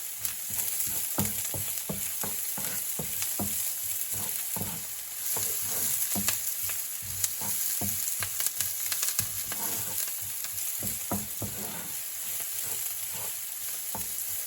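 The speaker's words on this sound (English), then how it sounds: "So I'm just going to allow these to saute a little." Thyme, garlic and onion sauté in a pan with a steady loud sizzle, with scraping stirs of a utensil at irregular intervals throughout and no voices.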